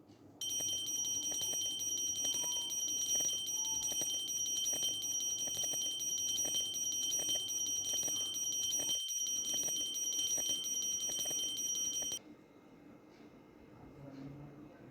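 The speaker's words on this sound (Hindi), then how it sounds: "घंटी की टन टन आवाज़ ध्यान से सुनिए और समझिए।" A bell rings continuously with a bright, steady metallic tone for about twelve seconds, then cuts off abruptly, leaving quiet background.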